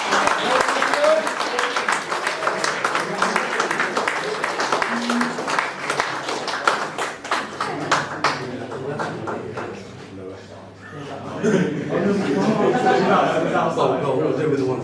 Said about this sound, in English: But a big cheer for Matty, please.